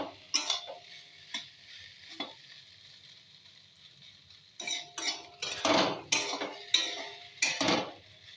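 A utensil stirs ghee through jackfruit seed muri ghonto in a pan on a gas stove, with scattered scraping and clinking strokes, sparse at first and then quicker and louder toward the end, heard close up without talk.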